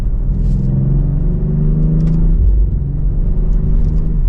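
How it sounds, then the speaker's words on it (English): A 2024 BMW X4M in M mode sends out a steady, deep exhaust drone with a low rumble that holds loud and constant throughout, swelling slightly around the middle. "If we pop it into M mode now, let's see if we can hear that exhaust a little bit louder."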